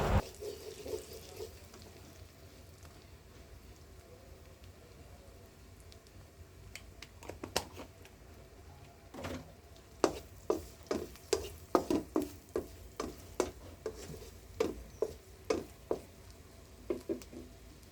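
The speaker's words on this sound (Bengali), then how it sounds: "এবার এটাকে একটু নেড়ে চেড়ে নেব যাতে এটা ভালোভাবে মিক্স হয়ে যায়।" Spices with turmeric being stirred in a hot frying pan for a kochu shak with mango dish, soft sizzling under a run of sharp spoon scrapes and clinks that grow regular and rhythmic in the second half.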